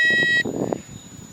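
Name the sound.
Hubsan H216A drone remote control beeping as it switches on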